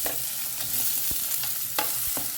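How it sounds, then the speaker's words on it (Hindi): Onions going into hot oil with garlic in a home kitchen pan, a steady close sizzle broken by a few sharp scraping stirs, no talking. "अब इसमें डालते हैं प्याज"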